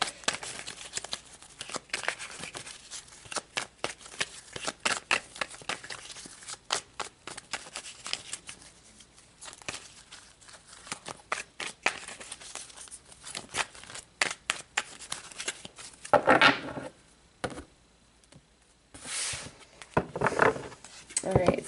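Tarot cards are shuffled by hand in a rapid, crisp riffling patter that runs almost continuously, with brief louder bursts of card handling near the end and no talk.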